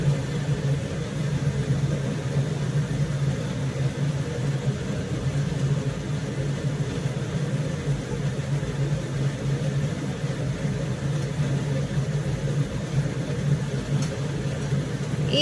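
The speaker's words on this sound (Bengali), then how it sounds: "এই যে একটার সাথে সাথে আরেকটা ভাজা চলছে।" Sujir pitha, semolina cakes, fry in hot oil with a steady, even sizzle and low background hum that continues unchanged throughout, with no talking.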